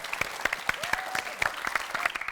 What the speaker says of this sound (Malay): itu dia tepukan untuk kumpulan kuning